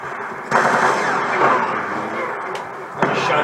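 Sustained automatic gunfire from the shooter game Call of Duty Black Ops 2 roars loud and dense, a continuous rattle with sharp jolts at the start and near the end, with faint talk underneath.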